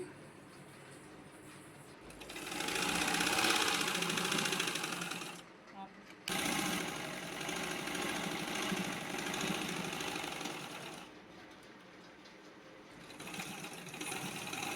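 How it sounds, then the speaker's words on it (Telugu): A sewing machine stitching two layers of cloth, a steady rapid whirring hum in two long runs separated by a short pause, with someone talking over it. "క్లాత్ని తీసుకొని ఫస్ట్ వేసిన కుట్టు మీద అయితే మళ్ళీ కుట్టు రానివ్వాలండి. చివరి వరకు అలానే కుట్టుకోవాలి."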